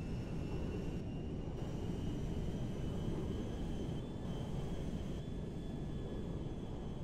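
Cargo jet engine in GTA V, a steady loud roaring drone with a thin high whine running across it, continuous and unchanging throughout, with no other sounds over it.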